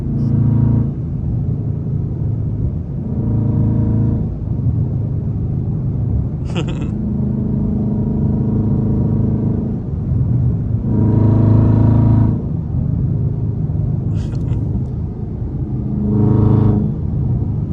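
A Dodge Scat Pack car engine whining as it accelerates on a highway, revving up in several surges over a steady low rumble.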